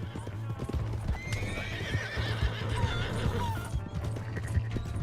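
A horse clip-clops along with rapid hoof beats and lets out a high whinny, loud and close in Red Dead Redemption 2, with crashes and faint voices in the background.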